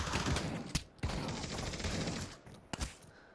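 Pump-action shotgun fire in a VR video game, three sharp separate blasts spaced across a few seconds over a dense, noisy background with no speech.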